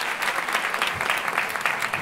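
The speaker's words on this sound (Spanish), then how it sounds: "Un aplauso fuerte." Loud, dense applause from a live audience at a magic show, steady clapping filling the whole stretch with no voices standing out.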